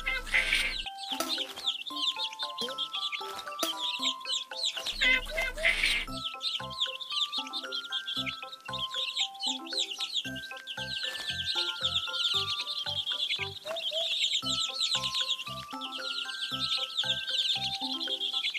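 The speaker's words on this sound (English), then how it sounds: "Feed the hungry baby birds with some seeds." Cartoon bird chirps and clucking calls from hungry baby birds in a children's counting game, with bright repeated chirps layered over plinking game music tones throughout.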